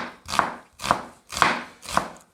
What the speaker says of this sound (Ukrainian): Нарізаємо цибулю тоненькими підкільцями.